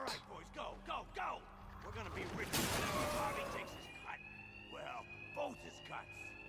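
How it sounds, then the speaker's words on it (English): A facility alarm blares as a steady high electronic tone in Batman: Arkham Knight, with a crash and bursts of noise midway, while someone talks over it throughout. "My attacks will be covered by the noise of the alarm."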